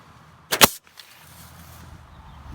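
Two quick sharp snaps close together as a staple gun drives staples through wire mesh of a predator apron around a chicken coop, followed by faint rustling.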